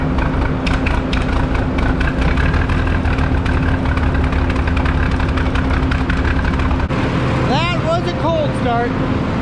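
A 50-year-old 2020 tractor engine, started cold without being plugged in or given ether, runs with a steady low rumble and throb, then its note changes near the end as a voice is heard.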